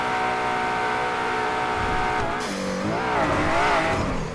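An Aston Martin in a driving video game roars at speed, then brakes hard with the engine note dropping and wavering, tires squealing briefly; the car sound is loud and continuous throughout.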